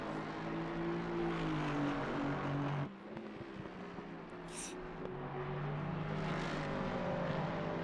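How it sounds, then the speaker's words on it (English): A Mustang GT3 race car in a racing video game roars steadily past with a loud, sustained engine drone whose pitch shifts as it changes gear partway through, continuous for the whole stretch. "In the very gorgeous sounding Mustang."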